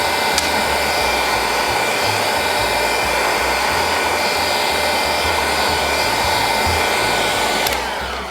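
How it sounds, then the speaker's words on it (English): A heat gun blows steadily at close range, heating an iPhone screen to loosen its glue, a loud unbroken whooshing roar that runs almost the whole time and fades slightly at the end. "I'm gonna use a heat gun to heat the screen"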